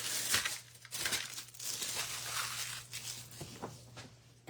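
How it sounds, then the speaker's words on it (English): Wrinkly paper backing peeled off a card piece in a close, crackling rip with crinkles and tearing bursts throughout, no talk. "So then you're just gonna peel it off."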